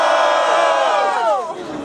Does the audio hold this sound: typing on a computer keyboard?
no